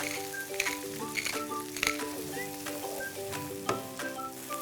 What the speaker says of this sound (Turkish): Mercimekle soğanı 1 dakika kadar kavuracağım.